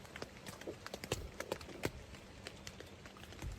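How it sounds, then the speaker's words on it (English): Faint, irregular soft thuds and scuffs like footsteps on the ground outside a tent at night, quiet and somewhat distant in a hushed setting. "I thought I heard footsteps."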